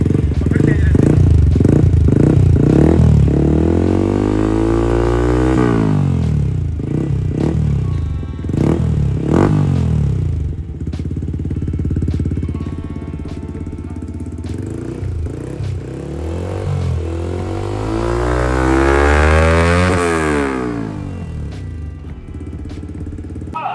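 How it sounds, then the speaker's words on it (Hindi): BMW S1000RR sportbike fitted with an R1M exhaust, idling and then revved in several rising and falling bursts, from light blips to hard revs, loud and close with someone talking over it. "ये है बाइक स्टार्ट होने के बाद R1M का एग्जॉस्ट है। साउंड सुन लो कैसा इसका, और हल्के से रेस देते हैं और फिर तेज रेस देते हैं।"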